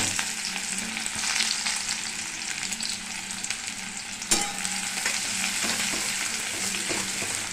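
Onion frying in hot oil with black cumin (kalo jeere) tempering: a continuous dense sizzle and crackle, close and steady, with a brief stir or clink partway through and no talking.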